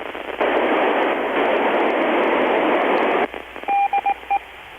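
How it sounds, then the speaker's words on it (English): A ham radio picks up the International Space Station's ident signal during an overhead pass: loud, steady static hiss cuts off into a quick series of short, clipped beeping tone bursts. "That's the ident from the ISS."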